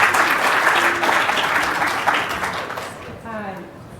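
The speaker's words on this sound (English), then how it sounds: "Please applause to the second best." Audience applause for a second-place prize winner at a nutrition talk, a dense burst of clapping from a crowd that fades after about three seconds as a voice begins speaking.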